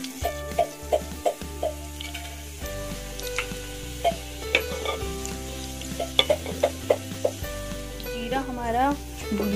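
Cumin seeds sizzle in hot refined oil in a home kitchen, a steady close frying crackle with light stirring over background music.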